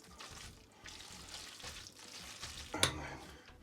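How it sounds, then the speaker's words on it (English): Fresh parsley stirred into a creamy tomato salmon pasta, a soft wet simmer with gentle stirring and a single sharp clink of the utensil near the end. "just adding fresh parsley. Stir most of it in."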